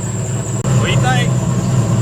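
A turbocharged LS engine fitted in a G-body car idles close by with a steady, loud low rumble and a thin constant whine riding above it, the idle holding even throughout.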